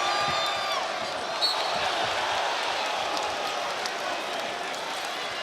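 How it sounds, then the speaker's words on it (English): A pro-Kansas crowd at a Big 12 men's basketball tournament game against Arizona keeps up a steady, dense roar of cheering and murmur throughout, with faint shoe squeaks and bounces in the arena. "And now this pro-Kansas crowd starting to get into it."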